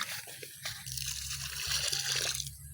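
Water poured out for watering eggplant plants and flowers in a garden, a steady splashing, trickling stream close by that grows slightly louder toward the end.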